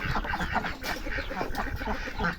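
Close flock of poultry at the coop, ducks quacking and chickens clucking together in a busy, continuous chatter.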